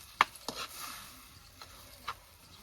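Brinjal and fenugreek curry being stirred in a pan, with a few sharp scrapes and clinks of the spoon over a quiet, faint sizzle.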